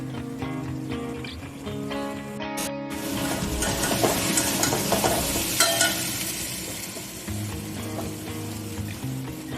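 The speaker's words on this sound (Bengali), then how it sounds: "মশলার সাথে আলুগুলোকে ভালো করে মিক্স করে দিলাম।" Boiled potatoes are stirred and fried with spices in a pan for a curry, giving a close sizzle with scraping, clinking stirs and a sharp metallic tap near the start, over a low hum.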